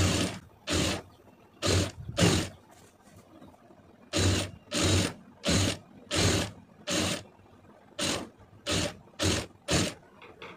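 Sewing machine stitching around the neckline of a blouse, running in short bursts of a second or less separated by brief pauses, close and steady with no voices.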